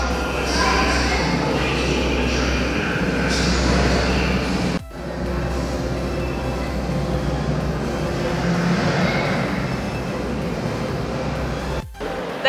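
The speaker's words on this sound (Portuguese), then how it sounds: "Olha o trem chegando!" A theme park train at Universal Studios Orlando gives a steady, close mechanical rumble that runs throughout, with people talking over it.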